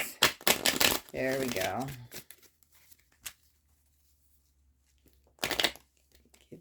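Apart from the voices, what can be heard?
shuffling a deck of oracle cards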